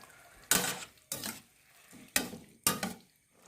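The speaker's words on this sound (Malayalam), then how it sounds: "1 ടീസ്പൂൺ പെരുംജീരകം ചേർത്ത് വേവിച്ച ഉരുളക്കിഴങ്ങ് ഇതിലേക്കിട്ട് മിക്സ് ചെയ്യാം." Boiled potatoes being mixed with fennel seeds in hot oil for a Kerala-style potato curry: four distinct scraping stirs of a spoon against the pan, each with a short sizzle, close and fairly loud, with no talking.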